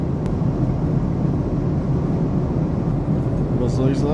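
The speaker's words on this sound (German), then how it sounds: "Ja, ich sitze im Flieger." Airplane cabin noise in flight: a steady, loud, low engine and air roar that fills the whole stretch, with a faint high chirp near the end.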